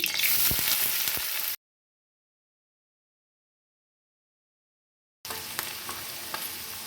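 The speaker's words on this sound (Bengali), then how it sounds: "পেঁয়াজটা হালকা লাল লাল করে ভাজা হয়ে গেছে।" Onions frying in hot white oil in a wok hiss loudly and closely with occasional stirring clatter, cut by several seconds of total silence before the sizzle resumes.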